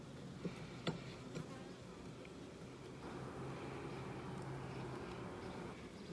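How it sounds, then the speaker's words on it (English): A faint, steady buzz of many honeybees at a hive hums throughout, with a few soft knocks near the start and no voices. "There's a lot of bees on this one."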